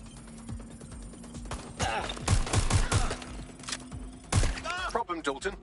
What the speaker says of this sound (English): Gunfire! Get down! I'm taking fire! Get down!